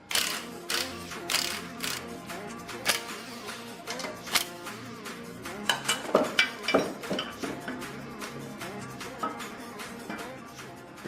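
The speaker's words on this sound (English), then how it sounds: "when you roll it over, you can hear the marbles in there" Broken gear parts inside a blown Nissan RB25 gearbox clatter and rattle as the case is rolled over, a busy run of metallic knocks and tinkling that swells and fades in uneven bursts, close up and with no talking.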